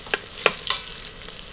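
Beef short ribs brown in a pressure cooker on its sauté setting, a short close sizzle with a few sharp spatters and utensil taps.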